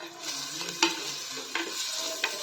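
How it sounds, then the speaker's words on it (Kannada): A spice tempering sizzles in a pan with a steady close crackle, and a utensil stirs it with three distinct scraping knocks. No one speaks. "ಸೊ ಒಗ್ಗರಣೆ ರೀತದೆ"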